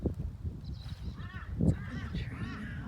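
Crows cawing outside near a garden bird bath, several harsh calls scattered over a few seconds, moderately distant, with a person talking quietly over them.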